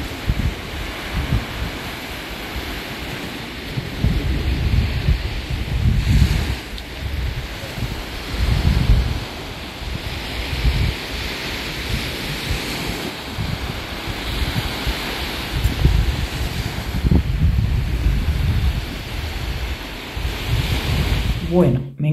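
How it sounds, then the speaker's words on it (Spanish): Sea waves wash against the shore with steady wind buffeting the microphone, a continuous moderately loud surf rumble with gentle swells. "me he venido a disfrutar del mar, porque esto me da mucha paz"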